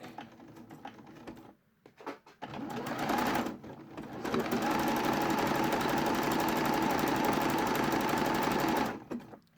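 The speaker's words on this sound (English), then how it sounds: "we're just going to use stretch stitch to make that into a ring" Sewing machine running a stretch stitch to join the short ends of a jersey fabric neckband into a ring, with brief stop-start bursts of rapid mechanical chatter, then one long steady run of close stitching before stopping.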